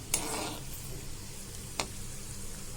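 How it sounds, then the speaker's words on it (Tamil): Cashew nuts frying in ghee for sago kesari, a soft continuous sizzle with two sharp scraping clicks of a stirring spoon against the pan. "முந்திரி பருப்பு வறுபட்டுடுது"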